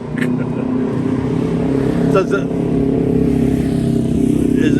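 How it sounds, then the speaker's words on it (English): A motorbike passes on a road, its engine rising and falling near and then away, under a low continuous rumble of traffic. "might wait till this bike goes by"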